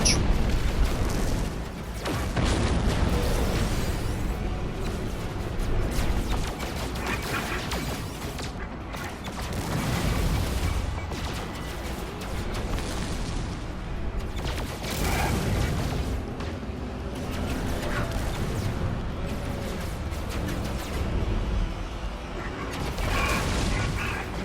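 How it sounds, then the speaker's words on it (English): Modded phase cannon fire and explosions during space combat against small fighters in No Man's Sky, a continuous loud barrage of booming blasts and mechanical clatter that runs throughout. "Let the phase cannon kick it."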